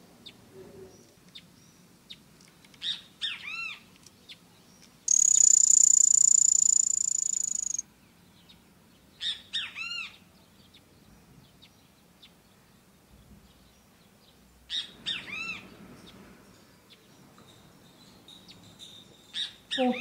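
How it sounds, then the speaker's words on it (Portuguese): Several bursts of bird song with high chirps and whistles, interrupted by a loud, steady insect-like trill that lasts a few seconds, over a quiet background. "ouvindo os cantos dos pássaros"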